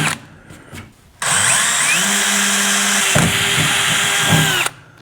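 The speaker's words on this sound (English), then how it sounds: "drill in the hole" A power drill whines loudly and steadily as it bores through material, pitch dipping briefly under load, after a few quiet clicks and taps.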